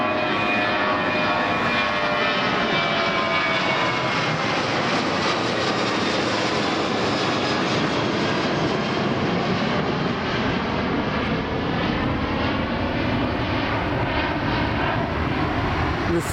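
A Norwegian Airlines Boeing 737-8JP jet taking off from runway 26 at Tel Aviv Airport, a loud, continuous engine roar with rising whine that stays strong throughout, recorded close with no speech.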